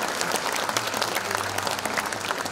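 A crowd claps steadily at a Korean disabled veterans' association 72nd anniversary ceremony in Yongin, the applause dense and continuous at a constant level for its whole length.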